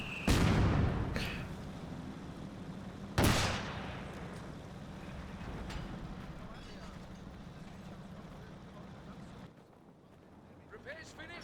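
Mortar fire in Company of Heroes 2 during a 1v1 match: two sharp, loud blasts at the start and around three seconds in, each trailing off over a steady low battlefield rumble that fades late.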